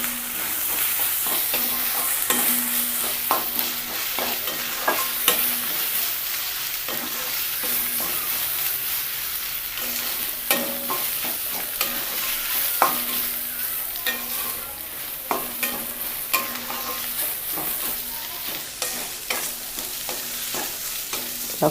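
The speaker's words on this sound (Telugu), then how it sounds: "ఇది అల్లం వెల్లుల్లి పేస్ట్ పచ్చిది కాబట్టి కొంచెం ఈ ఆయిల్లో ఫ్రై అవ్వనివ్వండి" Raw ginger garlic paste frying in hot oil for a tamarind-leaf chicken curry, a continuous bright sizzle broken by repeated scrapes and clinks of a spatula stirring against the pan, close and steady with no talking.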